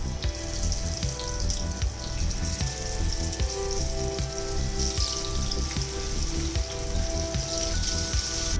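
Sardine (matthi) fish frying in hot oil in a kitchen pan, a dense, even crackling sizzle with sharp pops scattered throughout, close and loud, steady for several seconds with no voices.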